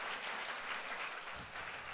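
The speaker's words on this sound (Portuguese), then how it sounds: "Uma salva de palmas." Faint, distant applause from a congregation at a Sunday church service, a soft continuous patter of many hands with no talk.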